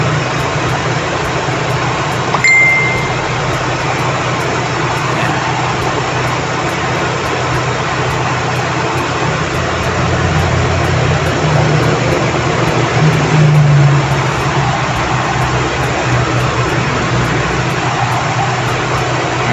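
Car engine idling steadily with the radiator fan running, a constant close whir and low rumble with no talk, holding even for the whole stretch.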